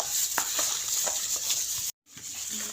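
Ginger garlic paste being stirred into mutton karahi in a wok, with a steady sizzle and soft scraping taps of the spoon against the pan, briefly cutting out before the sizzling resumes.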